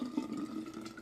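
Rhubarb kombucha poured into small jars: a brief, close, steady trickle of liquid filling glass.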